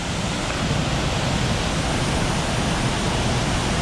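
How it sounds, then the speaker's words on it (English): Sturgeon River Gorge Falls, the main waterfall, roars in a steady, dense broadband rush, loud and close, with no voices over it. "That is the Sturgeon River Gorge Falls"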